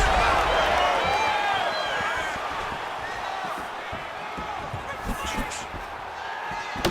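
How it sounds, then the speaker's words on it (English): A large arena crowd at a UFC fight between Khamzat Chimaev and Israel Adesanya roars and oohs steadily throughout, loud and continuous, with an announcer talking over it. "You hear this crowd just eating out of his hand, oohing and on every time he advances"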